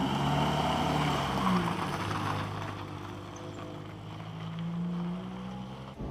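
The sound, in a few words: Ford Mk1 Fiesta driving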